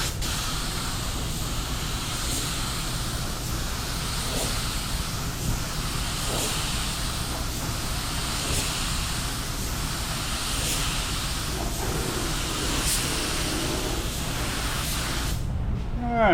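DIY spray gun laying down a coat of paint: a steady, close airy hiss running continuously for about sixteen seconds with faint pulsing, no talk over it.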